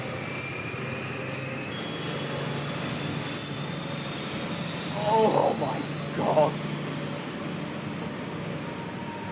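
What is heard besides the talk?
Intercity 125 HST train with Valenta engines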